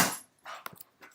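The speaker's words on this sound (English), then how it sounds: "Pardon my dog's fighting in the background." Dogs play fighting nearby, with a short bark burst followed by a few quick yips and growly snaps spread over about a second, moderately loud with no talk.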